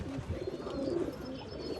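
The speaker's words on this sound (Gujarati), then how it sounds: "બહુ શાનદાર કબૂતર છે હરો આપણો." A prized red-eyed pigeon coos in low, throaty rolling notes, steady and near throughout the short stretch with no voices.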